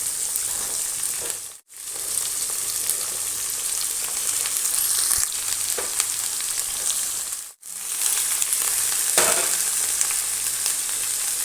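Tomato and broad beans fry for avaraikkai varuval, giving a loud, steady sizzling hiss, with a few scrapes from stirring and two brief breaks where the sound cuts out.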